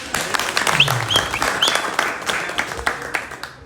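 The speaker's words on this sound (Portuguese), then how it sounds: "Uma salva de palmas" A crowd applauds steadily, dense clapping filling the whole stretch with a few short voices and cheers over it, fading toward the end.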